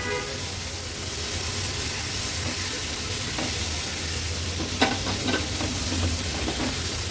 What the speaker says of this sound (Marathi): कोलबी पण मी ह्याच्यात परतून घेते